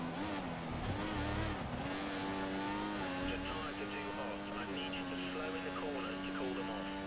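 An F1 race car in the video game F1 2014 drives with its engine shifting and revving through gears, a continuous buzzing motor tone with pitch sweeps and some tyre noise, under game background sound.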